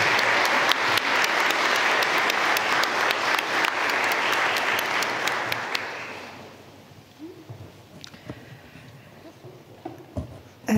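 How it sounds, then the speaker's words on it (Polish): A hall audience at a graduation ceremony for new doctors and dentists gives steady, dense applause for about six seconds, which then thins out to a few scattered claps and room noise. "wielkie, wielkie brawa dla Was wszystkich za to, co zrobiliście."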